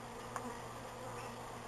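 Bees buzz in a steady, close, low drone during a bee removal, a continuous hum with no voices and one brief soft knock early on.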